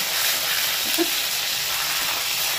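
Food fries lightly in a pan with ginger and green chilli paste, giving a steady close hiss of sizzling oil that continues evenly with one faint soft clink.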